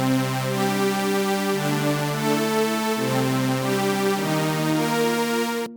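A synthesizer patch built from three sawtooth oscillators, one an octave apart, played dry with no effects: a bright, buzzy sustained chord that shifts pitch a few times, steady and loud throughout, ending abruptly.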